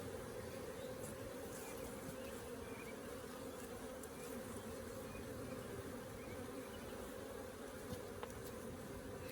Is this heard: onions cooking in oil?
no